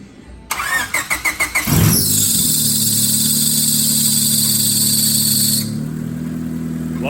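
A Honda Civic turbo engine, freshly rebuilt with new rod bearings, cranks with several rhythmic starter pulses, catches and roars up, then holds a loud steady high idle before dropping lower near the end.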